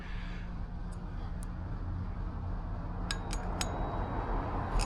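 Small screws go back onto an e-bike with a Warp 9 chain drive pulley kit, a few faint metallic clinks and ticks spaced out over a steady low background hum.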